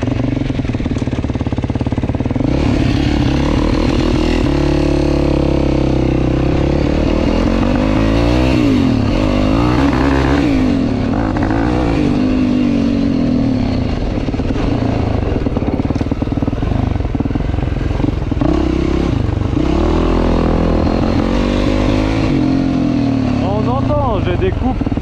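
A Yamaha YFZ R quad engine drones continuously while riding laps around a field, rising and falling as the throttle changes, with a rider's voice speaking over it.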